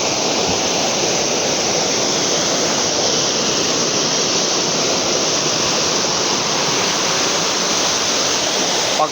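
The Hagdan-hagdan waterfall, a tiered cascade, roars as a dense, continuous broadband rush of falling water, loud and close, with no voices over it.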